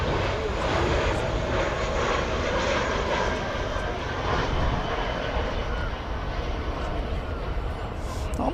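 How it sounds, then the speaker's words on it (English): An Airbus A321 jet airliner at DFW airport produces a loud, continuous broadband engine roar that holds steady throughout, close and sustained, with no talk. "American 1687 from Los Angeles, and Airbus A321 is next up"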